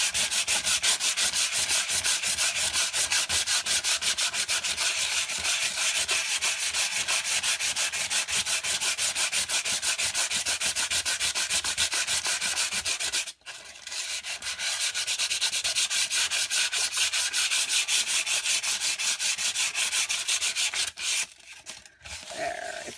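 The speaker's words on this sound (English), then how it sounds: "And then we're going to run the sandpaper along the top." Sandpaper rubbed back and forth along the top edge of a composition notebook, a steady rasping scrub that runs on continuously, briefly pauses once, then resumes with a few short strokes near the end.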